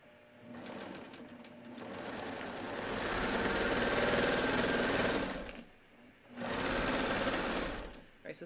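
A sewing machine stitches a T-shirt shoulder seam in two bursts, a steady buzzing whir that speeds up and holds, pauses briefly, then runs again close by.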